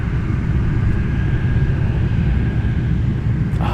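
A Douglas DC-6 propeller airliner taxis at Anchorage airport, its engines a loud, steady droning rumble with a faint constant tone running alone throughout, with no talking.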